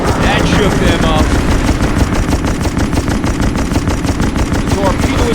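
Naval gunfire in the video game Naval Assault: The Killing Tide, a loud, continuous rapid rattle of machine-gun fire with heavy reports that runs without pause, and faint voices mixed underneath.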